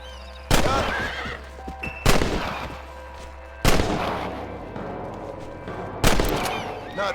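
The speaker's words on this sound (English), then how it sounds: "I bet you can't beat Ira Shelton in shooting" Four sharp gunshots crack out at uneven intervals in a shooting contest in the video game Red Dead Redemption, each followed by a ringing echo, over a low steady hum.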